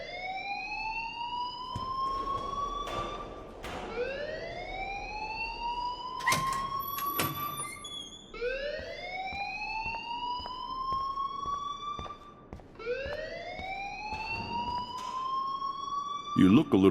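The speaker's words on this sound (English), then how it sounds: "please turn off that alarm since that's your job" A wailing alarm in the video game Life Is Strange sweeps upward again and again in long rising tones, repeating steadily, loud and close, with a few brief clicks and knocks between the cycles.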